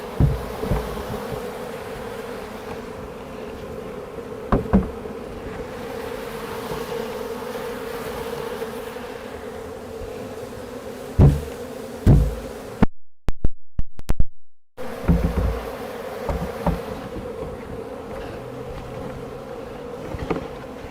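A honey bee swarm drones steadily throughout as the bees are installed into a hive box after a spring swarm capture, with a few louder knocks and handling bumps, and a brief dropout near the middle.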